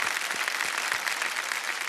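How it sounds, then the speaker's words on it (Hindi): A studio audience on a quiz show welcomes an expert with steady applause, a dense, even wash of many hands clapping at full volume from start to end. "तालियों के साथ इनका अभिनंदन"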